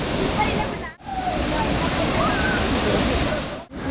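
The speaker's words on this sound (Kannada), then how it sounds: "ಫಾಲ್ಸಲ್ಲೂ ನೀರು ಜಾಸ್ತಿ ಆಗ್ತಾ ಇದೆ ನೋಡ್ರಿ" Soormane Falls roaring in heavy rain: a dense, steady rush of falling water that briefly cuts out twice, with faint voices underneath.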